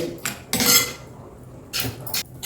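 A spoon scrapes and clinks against a metal pan while stirring a cooling vermicelli milk mixture for kulfi, a few sharp bursts of scraping separated by quiet gaps, close by.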